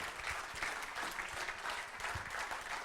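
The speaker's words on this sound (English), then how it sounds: "Now you can applaud." A small audience at a startup pitch meetup gives a soft round of applause, fairly quiet and distant, a steady scatter of clapping hands with no voices over it.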